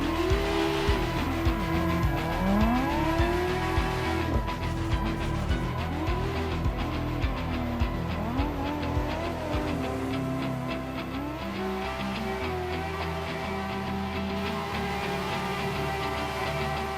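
A race car drifts through a long, wide turn in Assetto Corsa, its engine droning loud and close while the tires squeal in sweeping, wavering tones for the whole stretch, with no talk.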